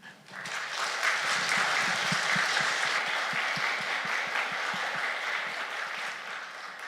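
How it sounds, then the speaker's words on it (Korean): A church congregation at a Sunday service breaks into sustained, dense applause that starts abruptly and holds steady for several seconds. "우리 박수 해주시면 좋겠습니다"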